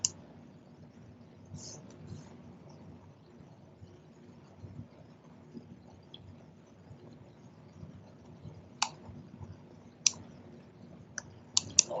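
Sparse, sharp computer mouse clicks, a few isolated and some in quick pairs, sounding faint to moderate over a quiet room hum with no talking.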